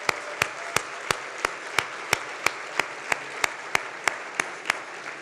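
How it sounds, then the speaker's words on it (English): Crowd applause for volunteers at a leadership forum, a broad, sustained patter of many hands, with one loud, sharp clap standing out about every third of a second, close and regular, throughout. "Can we have an applause for all the volunteers?"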